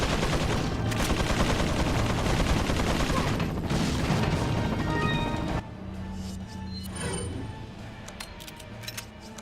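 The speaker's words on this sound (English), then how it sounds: "Yep, that's a 10-barrel minigun." A ten-barrel minigun firing in Resident Evil 4 on the Wii, a loud, sustained rattling stream of gunfire that cuts off abruptly, followed by scattered impacts and lighter clatter.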